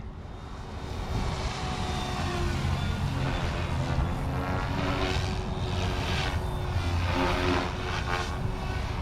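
A continuous buzzing whine of a small RC helicopter's rotors, steady and fairly loud, with pitch wavering slightly as it hovers and maneuvers nearby.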